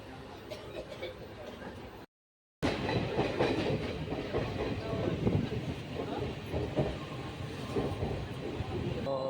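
A passenger train rolls along with a steady rumbling rattle and faint clatter of the carriage, heard from inside, broken by a brief cut before the noise resumes; voices are faintly present in the background.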